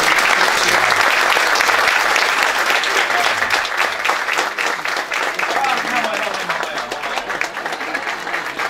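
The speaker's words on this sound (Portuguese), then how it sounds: "eu gostaria que nós rendêssemos uma salva de palmas" An audience applauds at a lecture evening, with sustained, dense clapping from many hands filling the room at close range and steady volume, while a voice is heard faintly beneath it.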